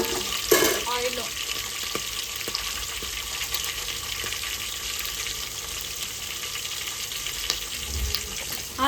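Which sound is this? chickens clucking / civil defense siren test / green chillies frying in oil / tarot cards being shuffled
green chillies frying in oil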